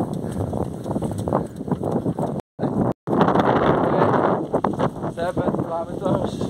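Strong wind buffets the microphone in a loud, continuous roar during a barefoot run as rain approaches, briefly cutting out twice, with a voice speaking over it.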